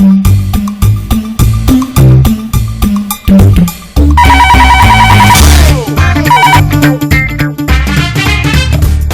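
A telephone rings loudly during a call in a comedy show, as a series of repeated electronic ringtone bursts layered with musical tones and busy background sound.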